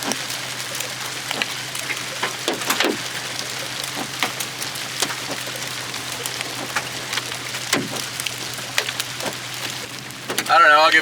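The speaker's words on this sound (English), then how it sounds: "Back to the rain." Rain patters steadily during a storm chase in bluff country, a close, even hiss with scattered sharper drops and taps, plus a brief louder burst near the end.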